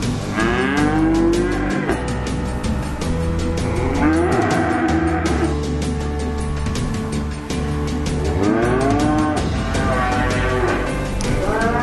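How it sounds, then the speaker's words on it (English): Cattle housed inside a farm building moo repeatedly, several long overlapping calls close by, over a constant loud background of animal and barn noise. "Many farmers have now got cattle housed inside."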